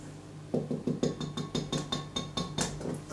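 Whisk beating dry ingredients including salt in a bowl, a quick regular rhythm of about a dozen bright clinking strokes against the bowl, close and clear.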